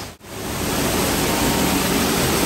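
Indoor hotel waterfall at Gaylord Opryland in Nashville, a steady, loud broadband rush of falling water that fills the space continuously, with a brief dip near the start and no talking.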